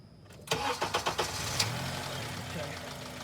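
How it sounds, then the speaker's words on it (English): Car engine starting right after a new pulley and power steering were fitted: a quick burst of rhythmic cranking pulses catches, then settles into a steady close idle, with a person speaking around it. "start the car."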